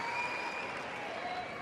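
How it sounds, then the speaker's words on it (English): A big crowd at Hisense Arena, Australian Open tennis, applauds in a steady, dense wash of clapping that holds evenly throughout. "Big crowd here on Hisense Arena."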